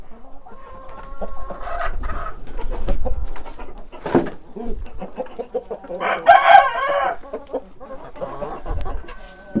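A mixed flock of hens clucking with a rooster crowing among them and a few other fowl calls, close and busy, overlapping through the whole stretch.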